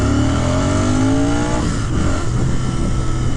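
A Royal Enfield Continental GT 650 motorcycle accelerating hard in first gear while riding in a pack, a loud close engine roar with its pitch climbing steadily before easing into a broad rumble and wind noise.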